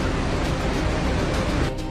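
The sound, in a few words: glacier-burst floodwater rushing in Nepal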